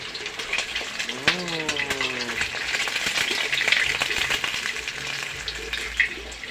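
Eggs fry in a pan with a steady crackling sizzle throughout, while a voice speaks briefly near the start.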